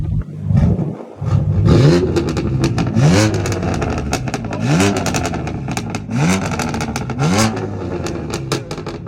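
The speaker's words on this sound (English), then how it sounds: "Can you give me more revs?" A BMW M4 with a VRSF single mid pipe exhaust and catalyst revs repeatedly at a car meet, loud and close, with rising and falling engine sweeps and crackling bursts between the revs.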